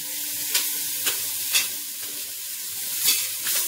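Chicken pieces sear in a pan with no oil, a loud, close, continuous sizzle broken by several sharp scrapes as the meat is stirred and turned.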